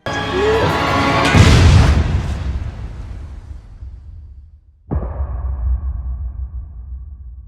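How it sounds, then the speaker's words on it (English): A deep, rumbling explosion in a scene from the TV series Lost booms and slowly fades, then a second heavy impact rolls in with a lingering low roar. "we hear an explosion"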